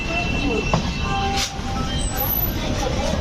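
The Gitanjali Express rolls into Tatanagar Junction with a continuous, fairly loud rumble of carriage and wheels, touched with faint metallic squeals and a brief hiss midway.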